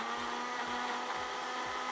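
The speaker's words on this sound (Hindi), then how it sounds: "तमाम चीजें मिक्स की और आपने ब्लेंडर में बना के" An electric blender runs steadily, blending apple cider vinegar with garlic-ginger paste, a continuous whirring motor hum with a faint rhythmic pulse, close and alone without speech.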